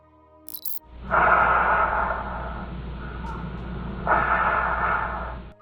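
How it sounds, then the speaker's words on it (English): Slow, heavy breathing of a man on an answering machine recording, two long rasping breaths with a muffled, lo-fi quality over faint low hum. "What you're hearing is the unsettling heavy breathing"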